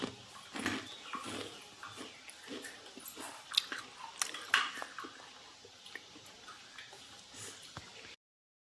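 Crunchy homemade chakli snack being chewed up close, with a quick series of crisp bites and crackles over about eight seconds and no talking.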